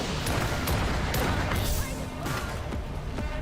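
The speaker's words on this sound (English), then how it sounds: "Oh, I hear gunfire." Video-game gunfire in Night City: a scatter of sharp shots and impacts at irregular intervals over a constant noisy game soundscape.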